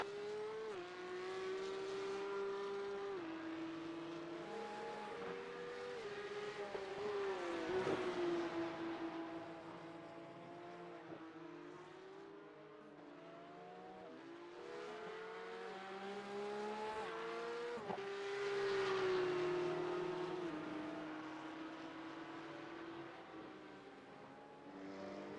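Race car engines roar on in a racing sim video game, a loud sustained drone with rising and falling revs and gear shifts as the car closes on a slower class car, with no talk.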